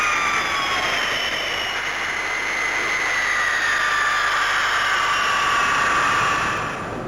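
A Boeing Dash 80 jet airliner arriving at Boeing Field roars loudly and steadily with a high whining turbine tone that slowly shifts in pitch, then eases off near the end.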